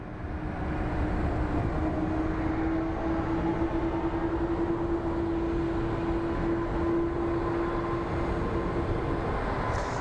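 Airliner at Phoenix Sky Harbor airport, a steady loud broadband engine roar with a sustained low whine, continuous and fairly close for the whole stretch, no voices.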